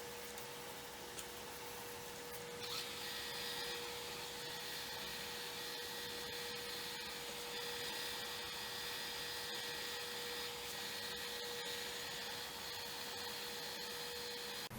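Resin on a choke cherry bowl being buffed with light pressure, heard as a quiet, steady motorized whir and hiss with a thin constant tone, continuous and fairly distant, no voices.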